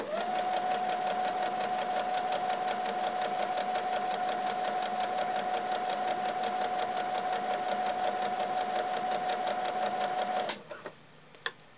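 A sewing machine runs steadily, stitching fabric for doll leggings for a ball-jointed doll, a close, continuous mechanical whir with rapid needle rhythm that stops near the end, followed by a few faint clicks.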